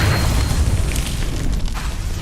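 A Confringo spell in Hogwarts Legacy on the Switch 2 bursts as a loud, dense booming explosion that rumbles throughout a brief moment, with no voice over it.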